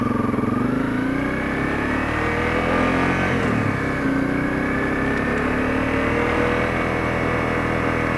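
A Honda CRF250L motorcycle engine runs steadily on a wet winter street, a loud, close, continuous drone with gently shifting pitch and no talking.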